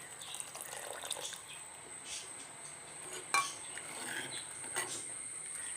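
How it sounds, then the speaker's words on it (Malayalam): Tamarind water squeezed from a gooseberry-sized lump is poured into a pot of okra curry. It makes a faint, steady liquid trickle with a few light clinks of utensils. "ഇനി ഇതിലേക്ക് ഒരു നെല്ലിക്ക വലിപ്പത്തിൽ പിഴിഞ്ഞ പുളിയാണിത് അതും കൂടി ഒഴിച്ചു കൊടുക്കാം"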